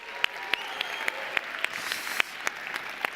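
Audience at a startup pitch competition stage claps steadily for the thirteen pitching teams, a dense wash of applause with sharp individual claps punctuating it, no talk over it.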